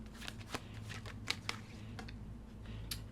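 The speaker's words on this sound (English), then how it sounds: "I swear I heard a card like flip." Tarot cards being flipped and shuffled close by: a quiet, continuous papery riffle with a few sharper snaps and flicks, no voices.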